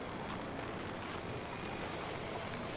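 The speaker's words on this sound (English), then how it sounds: "It's like a haunting wind noise, huh?" Steady, haunting wind blowing across a snowy coastal cove in The Long Dark survival game, a continuous broadband rush that fills the whole stretch without pause or voices.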